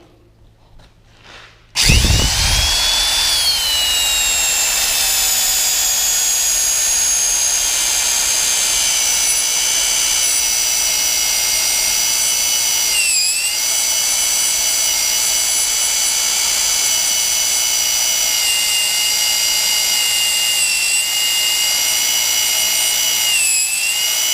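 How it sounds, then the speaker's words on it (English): After a short quiet start, a magnetic drill starts up and cuts through steel plate with coolant on an Eversman 600 scraper, giving a loud, steady motor whine that holds for over twenty seconds. "clamp your magnet back on, and you're good to cut through the next plate"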